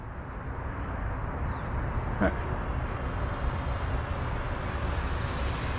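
A size-80 RC jet plane flies in foggy weather, its turbine giving off a steady, continuous whine at a fairly even distance throughout.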